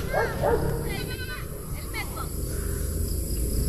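Goats bleating on a rural Philippine farm, a couple of wavering cries early on, then fainter calls under a person's talk and steady outdoor background noise.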